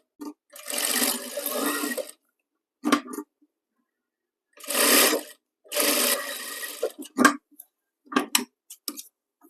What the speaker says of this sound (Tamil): இப்போ அப்படியே ஒரே ஸ்ட்ரைட்டாக இந்த ஹை பட்டி மேலே ஓரமாக தையல் போட்டுக்கிறேன்.